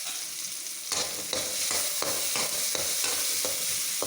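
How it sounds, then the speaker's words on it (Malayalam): Small shallots and tomato sautéing in a pan, with a spatula scraping and stirring in regular strokes about every half second over a constant close sizzle, and no voices. "ഇതും ഒരു തക്കാളിക്ക ഇതും കൂടെ വഴറ്റിയെടുക്കാം."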